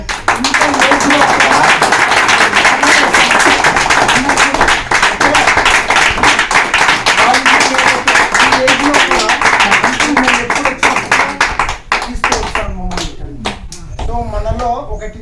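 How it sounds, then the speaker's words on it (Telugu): A crowd at a church Christmas and New Year celebration claps steadily and densely for about twelve seconds. The applause then thins out and gives way to talking. "సో అంకుల్కి క్లాప్స్ కొట్టండి"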